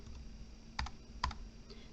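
A computer keyboard is tapped twice in quick double keystrokes, faint and close, over a quiet room hum.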